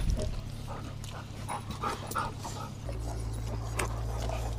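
A dog pants close by in quick, steady breaths with occasional small whimpers, over a constant low background hum.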